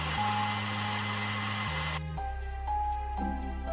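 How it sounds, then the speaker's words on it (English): A hair dryer blows steadily to dry weathering mud paint on a tank model, a loud continuous whir that shifts pitch as its setting changes partway through. "Use hair dryer to check how it looks when dry."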